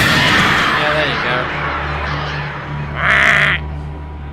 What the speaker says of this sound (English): That's the noise birds make, apparently.